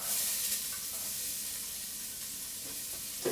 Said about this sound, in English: Get the onions in there.